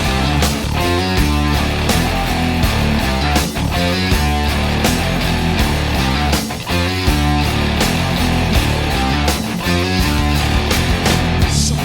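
An electric guitar plays the main riff of a song with a dense, loud, driving distorted tone. It repeats in a steady rhythm for the whole stretch, and there is no talking.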